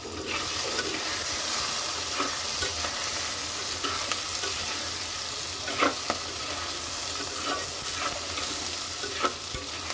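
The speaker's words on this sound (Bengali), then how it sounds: "এইবার সব কিছু সুন্দর করে কয়েক মিনিট ভাজা ভাজা করব।" Pabda fish curry ingredients with green chilies sizzle loudly in hot oil in a pan, a dense continuous frying hiss broken by occasional stirring scrapes, with no talk.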